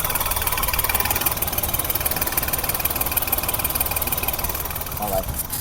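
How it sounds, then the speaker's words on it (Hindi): A Maruti Alto K10 running on CNG idles steadily in its engine bay, heard up close with a continuous, even rumble and a fine rhythmic pulse that holds at a constant loudness throughout. "तो इंजन बे में साउंड की क्वालिटी अपने चेक करेंगे"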